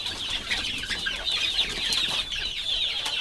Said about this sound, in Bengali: দেখতে পাচ্ছেন এগুলো দেশি মুরগি